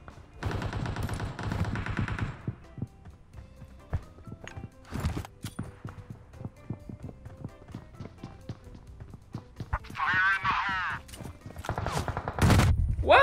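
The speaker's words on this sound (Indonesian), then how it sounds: "Wah, gua ditembak dari jauh, cuy." Distant gunfire aimed at the player in PUBG Mobile, scattered sharp cracks and short bursts spread across the stretch among other game noises and a tonal burst near the end, no talk heard.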